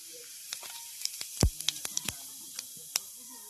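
Whole cumin seeds hit hot mustard oil in a kadai and sizzle, a steady hiss peppered with sharp crackles and pops, close and clear without talk.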